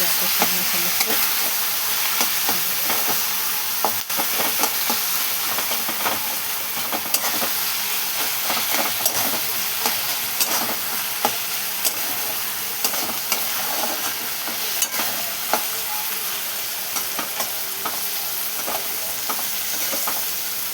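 Onions brown in a pan with a dense, continuous sizzle while a spatula scrapes and stirs in frequent short strokes throughout.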